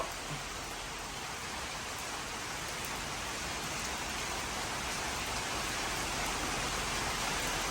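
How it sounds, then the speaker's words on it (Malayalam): Rain pours steadily on a rainy day, an even, dense hiss of falling water throughout with no breaks and no voices. "കഴിഞ്ഞിട്ടില്ല, ഇപ്പോഴും പെയ്യുന്നുണ്ട് മഴ."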